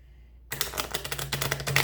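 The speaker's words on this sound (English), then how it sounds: "I have so many big cards, I usually shuffle them sideways," Small cards shuffled by hand in the regular way, a quiet pause and then a loud, rapid riffling flutter of many quick clicks running to the end.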